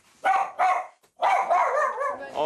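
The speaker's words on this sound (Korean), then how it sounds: "아, 오늘은 좀 짖네." A dog barks at the door: two sharp close barks, a short pause, then a longer run of louder, drawn-out barking and whining.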